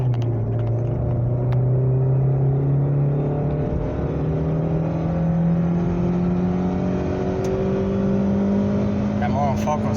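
A Mazda 626 with an upgraded gearbox accelerates hard in second gear during a top-speed test. The interior engine drone climbs steadily in pitch and stays loud and continuous.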